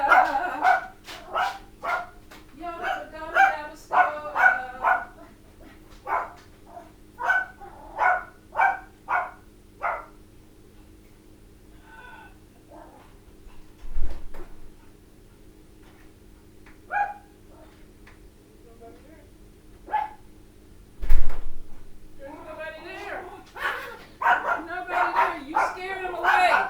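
A dog barks indoors in a house, a run of loud close barks and yips in quick succession followed by scattered single barks, mixed with a person talking.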